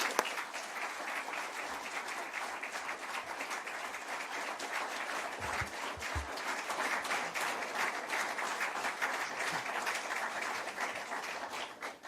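An audience at a Policy Exchange event gives the Prime Minister, Rishi Sunak, a steady round of applause. The clapping is sustained and even throughout and fades away at the very end.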